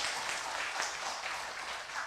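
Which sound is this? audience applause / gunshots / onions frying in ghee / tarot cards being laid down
audience applause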